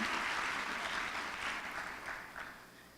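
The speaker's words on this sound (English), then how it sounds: "Can they please give another round of applause?" An audience claps for students at a Cobb County student recognition breakfast, a dense round of applause that starts full and gradually tapers off over three seconds, with no one speaking.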